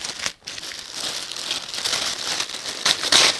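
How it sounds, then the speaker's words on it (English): Tissue paper crinkles and rustles continuously while a dress is unpacked from a large box, close and fairly loud, with sharper crackles near the end. "Very rusty tissue paper."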